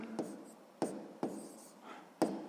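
Pen or pencil scratches on paper while a math answer is written down, a few short close strokes in uneven rhythm, quiet and alone.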